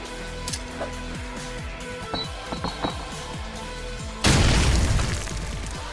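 Grenade going off in Call of Duty 4 Promod on the Backlot map, a sudden loud booming blast that rumbles and fades over a couple of seconds after scattered game noises.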